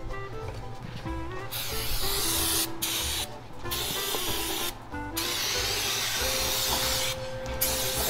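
Liquid hisses as it sprays out during work on a transmission of a rat rod wrecker, a close, fairly steady spraying sound broken by a few short pauses, with shop noise underneath.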